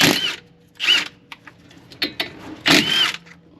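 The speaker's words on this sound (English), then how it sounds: "now we can loosen and remove these two caliper slide pin bolts" Power tool or impact gun loosening and removing 17 mm brake caliper slide pin bolts on a 2008 Acura MDX, heard as three short close whirring bursts separated by pauses, with small clicks and clanks between them.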